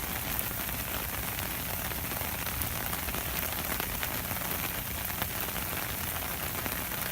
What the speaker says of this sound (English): Well, now it's raining on your head.